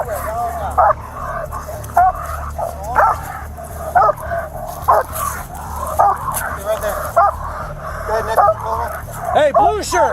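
A police dog barks and yips repeatedly in sharp bursts at the scene of an arrest, close and loud, with officers shouting commands over and around the barking.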